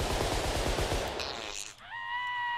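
Rapid automatic AK-47 fire in the video game The Long Drive, a loud dense burst of shots filling the first second and a half before cutting off, followed by a ringing tonal sound.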